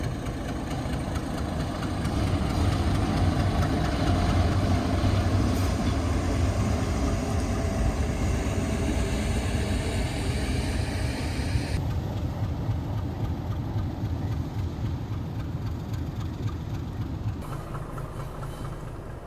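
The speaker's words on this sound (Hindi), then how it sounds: "चोरल नदी के किनारे जाते जाते अचानक से इंजन की आवाज़ आती है" A meter-gauge heritage train engine near the Choral river rumbles and idles steadily, with a continuous low-pitched engine drone and knocking throb that holds fairly loud through the whole stretch.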